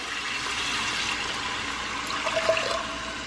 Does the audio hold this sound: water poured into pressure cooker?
yes